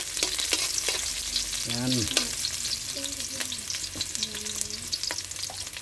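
Ginger and onion sauté in hot oil for crab cooked in coconut milk, a steady sizzle with stirring clinks close by, while a voice speaks briefly over it.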